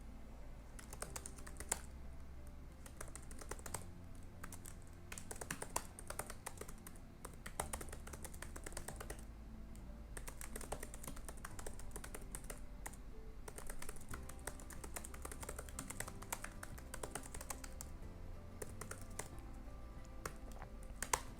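Fast, steady typing on a computer keyboard, close-up rapid key clicks with occasional heavier thumps from the spacebar, continuing without pause and with no voices.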